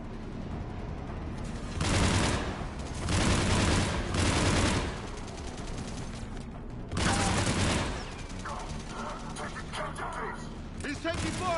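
Bursts of heavy automatic gunfire in a Mass Effect 3 battle, several loud sustained volleys of a few seconds each, with a rumbling, noisy combat backdrop running between them.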